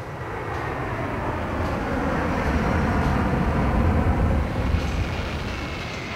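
A steady, broadband roar fills the cabin of a passenger airliner in flight from Paris Charles de Gaulle to Antananarivo, Madagascar, a constant engine and airflow drone without pause or voices.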